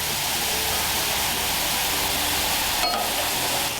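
Burger patties sizzle on a hot griddle with clarified butter ladled around and over them, a steady, dense frying hiss that fills the whole stretch evenly, with a brief brighter crackle near the end.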